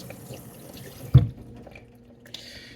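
Kitchen tap running as a knife is rinsed clean after cutting garlic, a soft steady water stream with one sharp clink of metal midway and a brief splash near the end.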